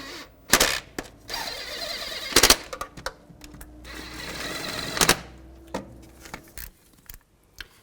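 A ratchet snugs the engine mount nuts on a 2000-2006 Chevy Tahoe, giving several short, rapid clicking bursts with brief pauses between them, close and fairly loud.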